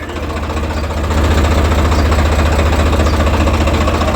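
A loud Swaraj 855 tractor engine idles nearby with a steady, low chugging throb that swells slightly after the first second and stays constant.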